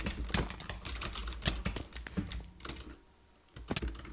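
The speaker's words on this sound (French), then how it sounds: "Désolé si vous entendez beaucoup mon clavier et ma souris aussi" Computer keyboard keys and a mouse clatter in quick irregular bursts while gaming, close and fairly loud, with a brief pause before the typing resumes.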